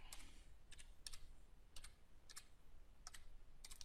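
Short bursts of typing on a computer keyboard, a few quick clusters of crisp key clicks spread over a few seconds, close but quiet.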